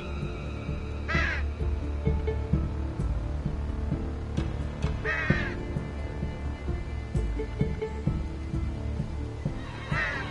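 Crows caw repeatedly in Unravel, sounding as several loud, harsh calls spaced a few seconds apart over steady game ambience and music.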